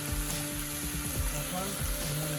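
Chicken meat being stirred in a pan for a Bengali-style curry, steady close sizzling and frying with soft scraping stir strokes repeating through the pan.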